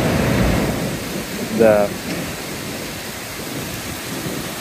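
Water rushing through roadside drainage pipes after a heavy downpour makes a constant broad roar throughout, loud and close, with someone briefly speaking over it.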